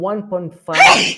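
Someone speaks briefly, then a single loud, close sneeze bursts out in the middle of a remote video-call conversation.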